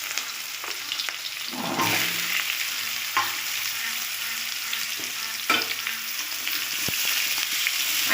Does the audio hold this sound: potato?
yes